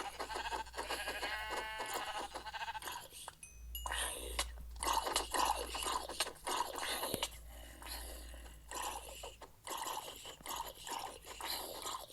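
Minecraft sheep bleat in short wavering cries near the start, followed by crunching and chewing noises and scattered clicks, with brief muffled sounds in between.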